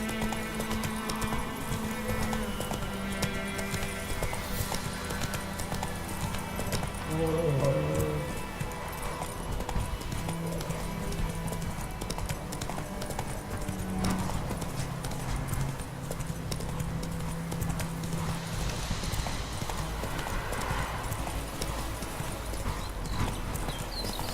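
Roach, a horse in The Witcher 3, gallops with steady rhythmic hoofbeats over a background of ambient game sound, with a brief whinny partway through.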